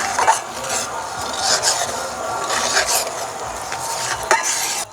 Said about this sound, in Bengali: এবার একটু আলতো হাতে নেড়ে দেব।